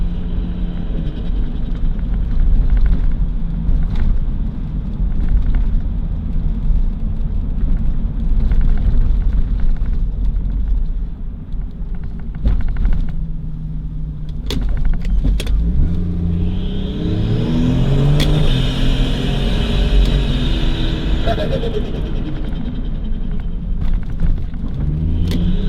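A turbocharged TB45 engine in a Nissan Patrol rumbles steadily, then climbs through a rising rev in the second half, with a constant low engine drone and no talking.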